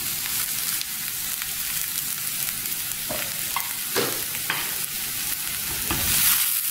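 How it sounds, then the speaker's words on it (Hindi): Mashed potatoes are stirred into a sizzling spice mix in a pan, steady frying hiss broken by repeated scraping strokes of a spoon, close and moderately loud. "मसाले में हम आलूओं को अच्छी तरह से मिक्स कर लेंगे"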